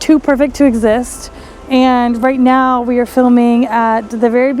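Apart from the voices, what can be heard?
None of the usual background noises is heard.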